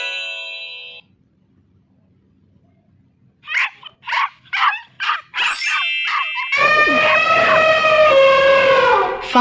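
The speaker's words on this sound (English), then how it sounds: "Dog." A cartoon dog barks five quick times in a row, loud and close, followed by a long high whimpering yelp, with no talking over it, in a children's animal-matching game.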